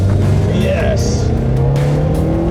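A Jaguar E-Pace launches hard at a hill climb race in South Africa, its engine roaring loud and close as revs climb, with a brief tire squeal; people speak over it.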